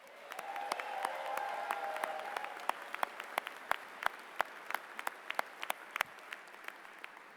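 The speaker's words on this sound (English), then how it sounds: "so let's give Caleb a big round of applause" Audience applause fills a graduate commencement ceremony, starting as dense steady clapping from a large crowd and thinning toward a few scattered, distinct claps before fading out.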